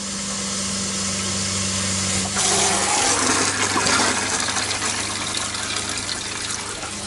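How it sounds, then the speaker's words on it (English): An RV toilet flushes up close, a low steady hum giving way to a sudden rushing gush of water that keeps swirling and draining for several seconds. "with the toilet flushing"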